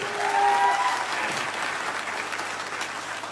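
An audience at a gathering in Rampura Khitaura gives a burst of loud, dense clapping that carries steadily through the whole clip and fades only slightly at the end, with no speech over it.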